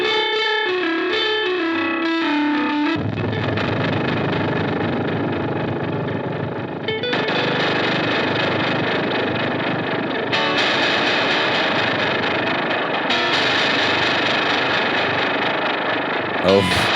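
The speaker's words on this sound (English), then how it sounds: "here we got some really interesting phased out," Guitar through a phaser and super fast chorus effect: thick, warbling, heavily modulated distorted tone held continuously, shifting character in several sections, loud and alone without speech.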